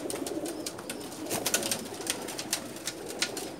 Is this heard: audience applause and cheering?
no